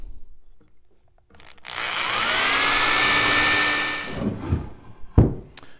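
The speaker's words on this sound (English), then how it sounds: "And I like to pre-drill the holes into here too." A power drill pre-drills holes in wood for a Layens beehive, running in one steady close burst of about two and a half seconds, then stopping, with a few handling knocks afterward.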